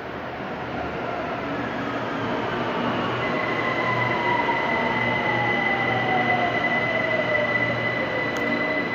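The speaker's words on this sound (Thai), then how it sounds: "เดี๋ยวเราจะมานั่งรถไฟฟ้าสายสีทองกันเป็นวันแรกนะครับ" A Bangkok Gold Line automated rubber-tyred train runs with a steady, loud rumbling roar heard from inside the car, with a high whine that glides up and holds, and no talking.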